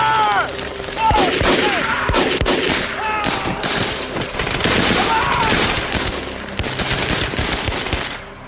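Heavy gunfire in a World War II tank battle scene from the 2014 war film Fury, with rapid machine-gun bursts and loud shots crackling almost nonstop, mixed with shouted voices.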